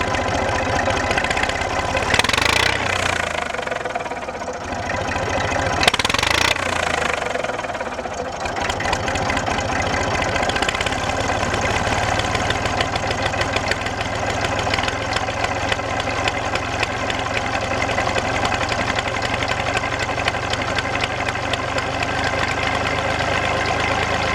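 Old Massey Ferguson 35X tractor engine idling after a cold start, a steady, loud, close diesel chug with a knocking beat that runs unbroken throughout, with a couple of brief louder bursts early on.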